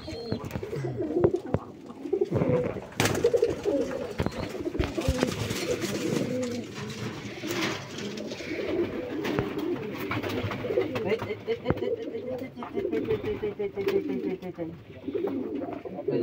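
A flock of farm pigeons in Kuakata keeps up a continuous layered cooing for the whole stretch, many birds calling at once with occasional sharper flutters and knocks and faint voices mixed in.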